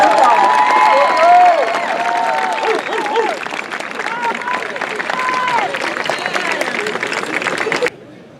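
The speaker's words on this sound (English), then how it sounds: "Please give them one more round of applause." Crowd applause and cheering in a high school stadium at a senior night football event, loud sustained clapping with scattered shouts and whistles, followed by a brief announcer's voice, then cutting off near the end.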